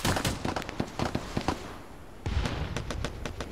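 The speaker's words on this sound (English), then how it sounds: "I want you to just level that place with mortars." Mortar shells exploding in a military video game, a rapid flurry of sharp cracking detonations, close and loud, easing off briefly before another dense burst of blasts.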